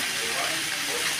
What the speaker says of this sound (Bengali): কষানো হয়ে গেছে, আমি এবার জল দিয়ে দেবো।